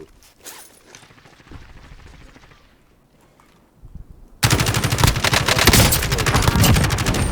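Gunfire in Call of Duty: Modern Warfare Warzone: scattered, quieter shots at first, then a loud, sustained burst of rapid automatic fire that runs to the end.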